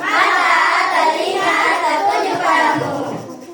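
A class of children performs the 'tepuk fokus' clapping routine, dense group chanting and rhythmic hand claps filling a classroom, loud and continuous before fading slightly at the end.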